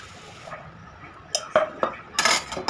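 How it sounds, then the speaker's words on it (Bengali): Potatoes and soybean chunks are mixed with spices in a bowl, with soft, wet mashing underneath and several sharp metallic clinks and knocks of a utensil against the bowl toward the end. "সয়াবিন দিয়ে একটু মাখিয়ে নিচ্ছে, নাড়াচাড়া করে নিচ্ছে"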